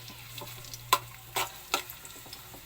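Garlic dropped into a hot pan and stirred, a few distinct scraping, clattering strokes over a low steady hum, with light frying sizzle close by and no talk.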